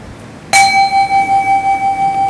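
A single struck Buddhist ceremony bell rings out once at a memorial chanting service, a bright clang followed by a sustained, pulsing ring that lingers loud and clear with no talk over it.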